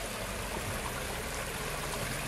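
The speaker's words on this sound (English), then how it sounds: "Let's check out this waterfall." A backyard ecosystem pond waterfall with several small drops, a steady close rush of splashing, trickling water filling the whole clip.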